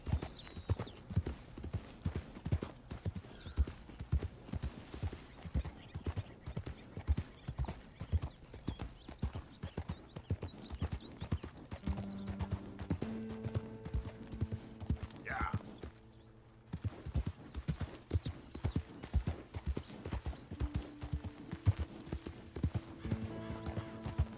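Steady clip-clop of horse hooves as a rider travels across country in Red Dead Redemption 2, a continuous rhythmic gait under game music, with a short horse whinny midway.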